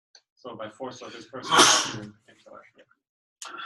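A single loud sneeze bursts out in a room during a training session, briefly overlapping someone speaking, with talk resuming after it.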